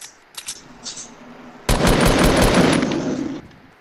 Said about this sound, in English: somebody shoot at them